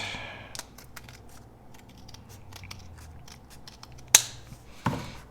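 Scissors snipping through folded paper: a run of quiet, rapid clicking cuts, then a couple of sharper, louder snips near the end, close by with no voices.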